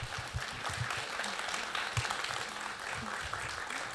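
An audience at a Southern California Chinese orchestra concert welcomes the conductor with applause, steady dense clapping at moderate distance, held evenly throughout.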